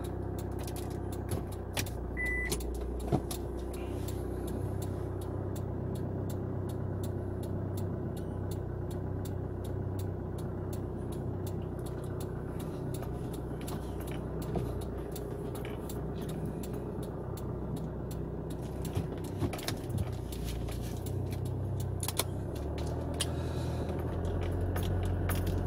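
The diesel engine of a Hyundai Tucson JM idles steadily after starting, a low, constant rumble with a few faint clicks and knocks on top and no talking over it.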